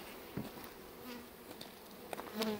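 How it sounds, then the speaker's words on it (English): Honey bees buzz around their hive while a bee package is being installed: faint, scattered buzzes that swell briefly as individual insects pass close by. "the bees in the hive will eat their way through here"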